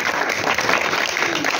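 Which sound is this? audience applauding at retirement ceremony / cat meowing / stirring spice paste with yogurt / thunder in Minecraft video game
audience applauding at retirement ceremony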